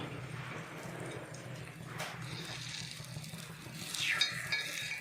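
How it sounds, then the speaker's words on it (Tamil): Egg pieces for egg chukka are turned over in a frying pan with a soft, steady sizzle and light scraping, and the utensil clatters a little louder near the end; no one speaks. "இதால் இப்படி மாற்றி போட்டுக்கலாம் அப்படியே மாற்றியாச்சு"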